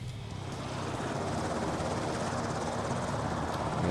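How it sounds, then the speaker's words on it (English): Steady rotor and engine roar of a helicopter landing on a carrier helipad in a naval video game, continuous and fairly loud for several seconds, with no voices. "We have one helicopter in reserve."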